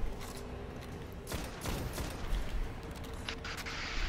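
Video game Destiny during a raid: a dense, continuous wash of gunfire, with a few sharper bursts standing out midway and toward the end, heard close and steady.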